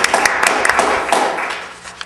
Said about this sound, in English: And I just want to applaud.